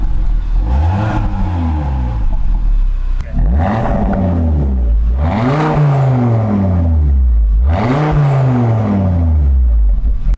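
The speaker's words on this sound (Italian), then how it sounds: "la differenza tra scarico aperto e scarico chiuso è netta." An Audi RS3 fitted with a sports exhaust terminal revs repeatedly, four loud close rises and falls of engine pitch in a steady rhythm, with the exhaust note booming and crackling off each peak.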